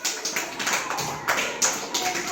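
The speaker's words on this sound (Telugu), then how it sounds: "క్లాప్స్ కొట్టండి" First-grade children clapping their hands in a school classroom, a run of quick, uneven bursts of group applause at moderate volume, with a voice faintly present.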